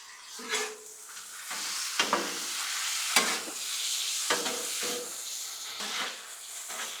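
Cheesesteak meat and cheese sizzle steadily on a Blackstone griddle while a spatula scrapes and mixes them in repeated strokes, the frying hiss continuous and close under sharp metallic scrapes.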